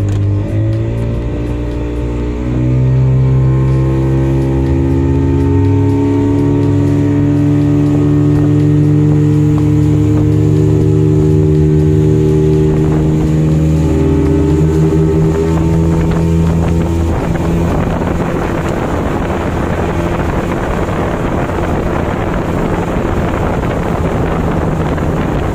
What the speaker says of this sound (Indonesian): tadi sampai top 23 knot ya, menggunakan dua unit mesin 40 PK.